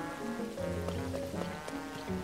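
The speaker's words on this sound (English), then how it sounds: "with this rain it's also hard to see" Rain patters in The Legend of Zelda: Tears of the Kingdom under a steady backdrop of layered sustained musical tones, with the rainfall soft and the music more prominent.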